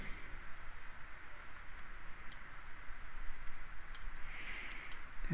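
Computer mouse clicking while an ad is laid out: sparse, faint, crisp clicks scattered across a steady background hiss.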